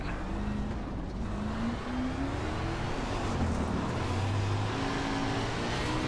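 Sprint car engine in iRacing, a steady droning hum that rises and falls slightly under a constant wash of road and wind noise, moderately loud with no talk.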